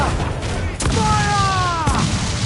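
Cannon fire erupts in a naval battle in Assassin's Creed 4 Black Flag, with booming blasts over a rumbling sea bed of noise and a tonal sweep of voice or effect layered through the middle.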